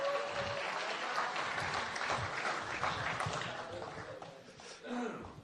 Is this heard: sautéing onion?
no